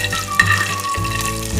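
Hot oil tempering for a Kerala sadya-style kurukku kalan, yogurt curry, sizzles and crackles loudly in a pan, close up and steady, with a sharp burst as it hits.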